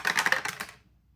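Dice are rolled onto a surface, making a close, quick rattling clatter of several small clicks that fades out within a second.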